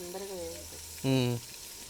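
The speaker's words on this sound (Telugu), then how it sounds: "పసుపు మంచి ఎర్రగా ఫ్రై చేసుకుందాము" Onions fry with salt and turmeric in a pan for village-style mutton dum biryani, giving a soft, steady sizzle. A voice talks briefly over the cooking sound.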